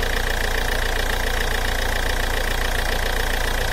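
Ford Figo, Ikon or Fiesta engine running steadily at idle after repair of a fuel pressure fault, a loud continuous close hum with no speech.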